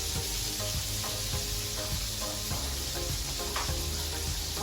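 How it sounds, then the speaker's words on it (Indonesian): Anchovies fry in a wok after jengkol was cooked in the same oil, giving a steady close sizzle with periodic scraping stirs, no talking. "Kita menggoreng ikan teri sesudah selesai menggoreng jengkol tadi"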